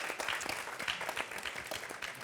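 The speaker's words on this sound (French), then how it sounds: "Vous pouvez les applaudir pour leur proposition d'organisation." An audience at a French debate club event applauds, a short burst of many hands clapping fairly evenly, moderately loud and close, with no talk over it.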